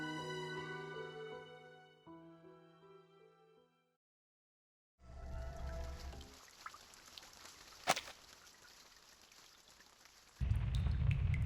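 In the Reverse 1999 game story, rain falls outside as a soft, steady patter. It follows a fading musical passage and a brief silence, then swells louder near the end.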